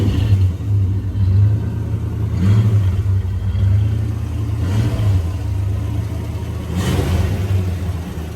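A 1965 Plymouth Barracuda engine idles through warm-up, a close, steady low rumble with slight rhythmic surges and no voices over it.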